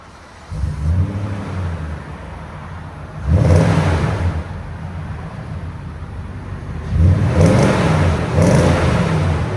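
A 2017 Nissan Titan SL with a 5.6L V8 and a Magnaflow exhaust with a black tip revs several times, each rev a deep, rumbling surge over a steady idle, loud and close with no talking.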